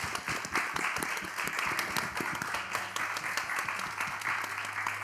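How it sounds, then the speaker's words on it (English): Steady applause from an audience fills the whole stretch, dense and even, with no single voice standing out. "if we could have a round of applause for our speakers"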